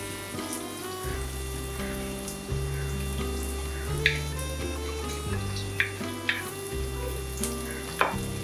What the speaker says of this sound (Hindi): बस प्याज और लहसुन डाल के इसको हम अच्छे से सॉफ्ट कर देंगे।